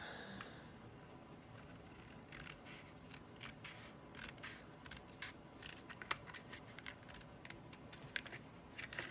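Scissors trim cardstock for a Stampin' Up! shadow box card, making faint, close, irregular snips and light crisp scrapes at a low level, with no talking.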